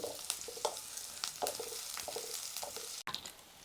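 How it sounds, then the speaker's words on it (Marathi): Vegetables being stirred with coriander in a pan, a quiet sizzle broken by repeated scraping and stirring strokes, with a brief knock near the end and no voices. "कोथिंबीर टाकून घेऊ सगळं आता चांगलं असं हलवून घ्यायचं आहे"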